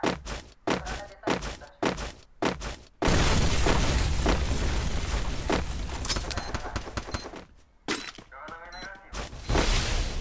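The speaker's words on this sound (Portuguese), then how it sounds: "Manda a bomba nele. Manda outra bomba." Grenade explosions in the Free Fire mobile battle game: a run of short booming thuds opens the clip, then a long dense roar of blasts and gunfire continues, with sharp impacts near the end.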